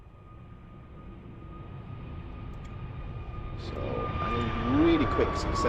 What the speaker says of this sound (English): Oh, we've got a takeoff.